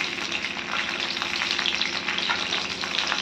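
Green chilies crackling as they temper in hot mustard oil, a steady close sizzle with scattered sharp pops and spits, heard with no voices.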